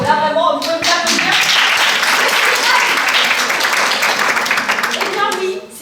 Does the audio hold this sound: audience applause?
yes